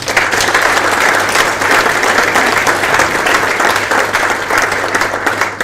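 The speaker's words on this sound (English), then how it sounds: "I think we just give them a round of applause." Dense, steady applause from a large crowd at a tag rugby capping ceremony in South Africa fills the room without a break for several seconds.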